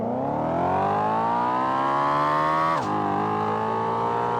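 A V8 car engine in the racing game APEX Racer revs steadily upward in a smooth rising drone, briefly drops at a gear shift, then climbs again.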